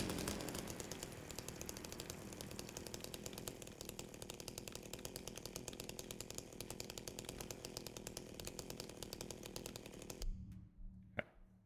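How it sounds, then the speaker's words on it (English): A harsh video game chainsaw roars steadily and loudly at full throttle, then cuts off abruptly near the end, leaving a few faint clicks. "I forgot just how aggressive the chainsaw sound actually is."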